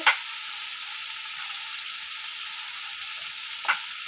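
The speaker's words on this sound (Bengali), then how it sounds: "মাখন দিয়ে এটাকে অল্প করে অল্প করে এটাকে মানে ভাজা হচ্ছে" Flour fries in butter for a white pasta sauce, a soft, steady high sizzle close by with a couple of light scrapes from stirring at the start and near the end.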